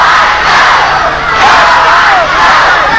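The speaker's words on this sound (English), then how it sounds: "And the crowd jumping up with enthusiasm here, trying to help Iceman out of his predicament." A 1985 wrestling arena crowd roars and yells enthusiastically, a loud continuous wall of cheering that swells in waves with no clear talk over it.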